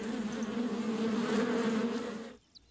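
Bees buzzing as a whole hive sits on someone's hand, a close continuous droning hum that stops abruptly near the end.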